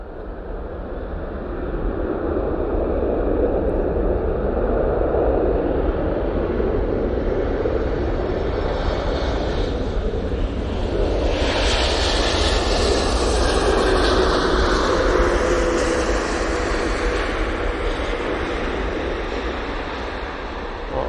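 A Hainan Airlines Boeing 747 arriving from Beijing and landing, heard up close as a loud, broad roar that swells to a peak midway and stays strong before slowly easing, with no talking.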